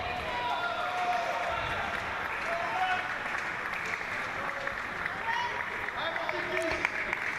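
Crowd applauding at a European Para Table Tennis Championships match, steady clapping through the whole stretch with cheering supporters of a British player, under a commentator's voice.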